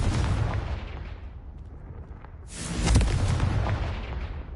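The Confringo blast spell in the wizarding game Hogwarts Legacy goes off as a loud, rumbling boom, dies away, then a second heavy explosion bursts and rolls out.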